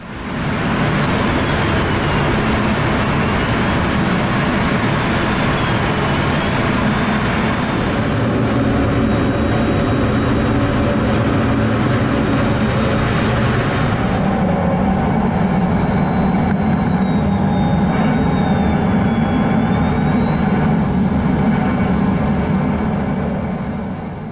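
From inside the cockpit of a US Air Force Thunderbirds jet, a loud, steady engine roar with a faint high whine runs throughout, shifting in tone a couple of times as thrust changes.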